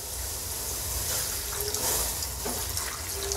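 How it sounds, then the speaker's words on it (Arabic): Fresh buffalo milk pours steadily into a cooking pot from a raised height, a continuous liquid splashing and gushing that fills the whole moment without speech. "هنرفع ايدينا كده واحنا بنحط اللبن"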